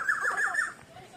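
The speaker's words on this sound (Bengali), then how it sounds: "পাখিটা অ্যাকচুয়ালি ডাকতেছে কোথায়, এটাই দেখার চেষ্টা করতেছি আমি।" A bird calls outdoors in the afternoon, giving one short, warbling, fairly loud call that fades after about half a second, then leaves only faint background.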